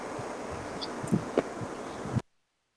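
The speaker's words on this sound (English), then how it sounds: "It's so windy." Wind buffeting against the microphone, a steady low rumble with a few soft thumps, cutting off abruptly into silence.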